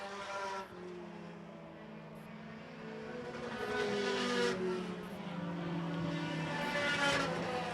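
Thunder 4 Mini race cars on a speedway oval, engines droning and rising in pitch as several cars pass at a distance, a continuous layered whine with swelling loudness.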